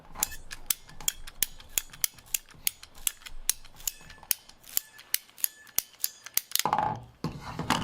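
Cheap three-piece urethane golf ball being cut open, heard as a close, steady run of sharp rhythmic clicks and ratcheting snaps, ending in a brief louder scraping burst.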